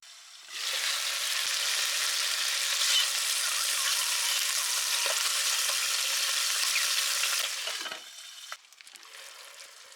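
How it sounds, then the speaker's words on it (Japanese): A tied, stuffed steamed dish seared in a hot frying pan for New Year osechi cooking: loud, steady sizzling and frying that starts abruptly, holds for about seven seconds, then drops off to quieter crackles and a few clinks. "崩れないように縛ったら、表面を焼きます。"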